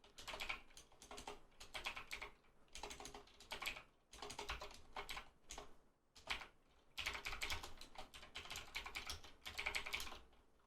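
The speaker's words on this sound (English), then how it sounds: "Typing all caps." Fingers type quickly on a computer keyboard in close, quiet bursts of rapid clicks, broken by short pauses.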